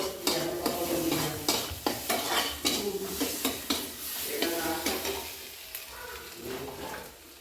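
Ground spices — cumin, turmeric and chili powder — sautéed in a pan for a doi posto dish, with a steady sizzle broken by repeated scraping strokes of a stirring spoon, close and moderately loud with no talk.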